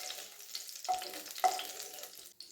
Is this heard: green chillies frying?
yes